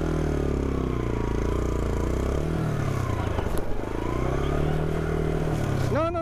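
A Yamaha motorcycle engine labours loud and close while climbing a rough, rocky mountain trail near Vallecitos, Córdoba, its pitch dipping and rising as the rider works the throttle, with someone speaking briefly over it.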